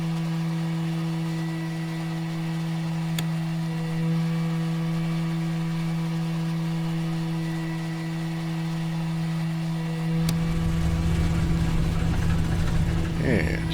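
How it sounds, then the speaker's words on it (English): Douglas DC-3 radial engine starting in Microsoft Flight Simulator 2020: a steady cockpit hum runs throughout, then near the end the right engine catches with a rough, loud low rumble that builds. "we'll start with the right engine"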